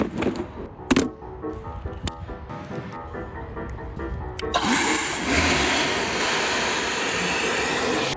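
A homemade hovercraft engine sputters with sharp clicks and pops, then catches and settles into a loud, steady roaring whine that holds for several seconds.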